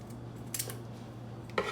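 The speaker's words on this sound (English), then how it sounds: "Let's cut this wing tip." Kitchen shears cut through a raw chicken wing tip with two quick, faint snips about a second apart against a low, steady background hum.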